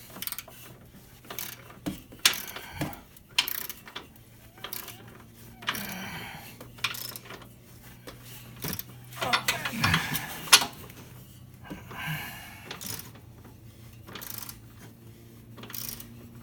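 A ratchet clicks in short, irregular bursts while subframe bolts are tightened on an ND Miata during a sway bar reinforcement install, close and moderately loud over a quiet background.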